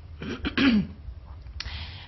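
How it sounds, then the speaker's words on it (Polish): A person clears their throat nearby, a couple of short rough rasps followed by a brief breathy exhale. "to chrząkanie może nie jest zbyt cudowne"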